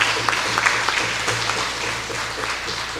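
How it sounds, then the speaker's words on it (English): A crowd at an outdoor political campaign rally in La Brea claps steadily at moderate volume, a dense ongoing patter with a low hum running underneath. "I want you to give a special round of applause to the very hard-working councillor"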